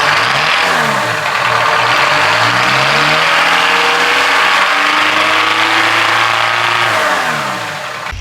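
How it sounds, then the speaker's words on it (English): A big Detroit 8V-71 diesel engine in a GMC Crackerbox cabover semi truck revs hard and loud up close, its pitch climbing and falling through repeated throttle bursts before easing back toward idle. "killer 8V-71"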